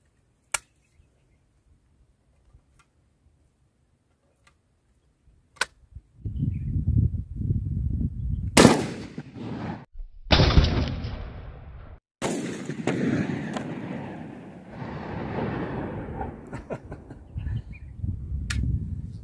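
A double barrel 12 bore shotgun fires two sharp, loud reports several seconds apart in an outdoor setting, each blast followed by a rumbling echo and background noise.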